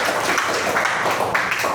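A classroom of students claps for three presenting groups during an Islamic religious education lesson, a dense, even patter of hands lasting a couple of seconds.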